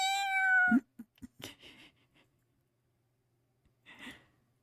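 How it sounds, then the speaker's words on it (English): A cat's meow from the video game Genshin Impact sounds clearly at the start, followed by scattered small clicks and a short second cry after a silent pause. "I mostly just wanted to hear them meowing"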